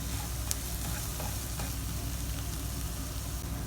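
Arabic rice with spices stirred in a hot pan, with shrimp going in, giving a steady close sizzle and scraping stir that continues without pause, with no talking.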